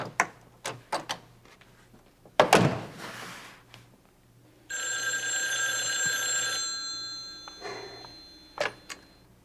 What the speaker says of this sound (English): Dan Meyer's office. Hello